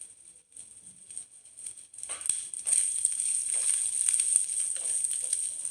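Ginger and coconut sauté in oil with a steady, hissing sizzle that starts quietly and swells, punctuated by light crackles and occasional stirring clicks close to the pan.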